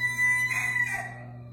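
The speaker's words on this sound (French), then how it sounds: "les coqs chantent." Roosters crowing on a sheep farm, a sustained drawn-out crow standing out over a steady low hum, fairly close and clear with no talking.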